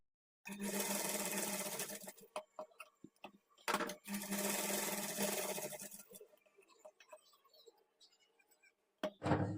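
Two steady bursts of a sewing machine running a double stitch along a blouse hemming strip, each about two seconds long, followed by softer scattered handling clicks, close up and without speech.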